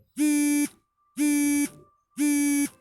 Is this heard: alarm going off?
yes